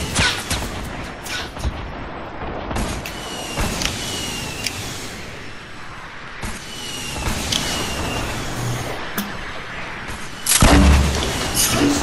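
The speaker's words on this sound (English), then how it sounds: "Launching grenades." Grenade launcher rounds exploding in the video game Fortnite, a string of sharp, booming blasts spread across the stretch amid constant battle noise, with the heaviest, loudest burst near the end.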